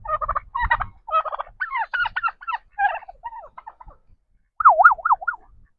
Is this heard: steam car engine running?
no